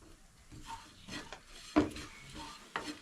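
A spoon scrapes and stirs chili, coriander and garam masala powders into browned masala in a pan for a roasted-coconut crab curry, with soft irregular scraping strokes and one sharper clink of metal on the pan.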